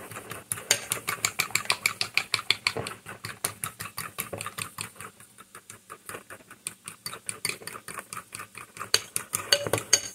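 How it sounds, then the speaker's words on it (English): A utensil scrapes and clinks rapidly against a pan while egg pie ingredients are mixed, giving a steady rhythmic tapping that runs throughout, close and fairly loud, with no talking. "Mixing, you guys."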